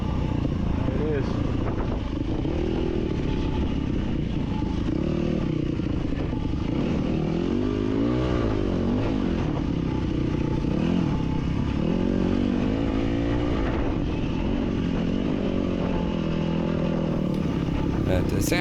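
Enduro motorcycle riding on the sand and rock of Sand Hollow bluff, a steady engine drone with rising and falling revs throughout, loud and close, mixed with wind and clatter and a voice talking over it.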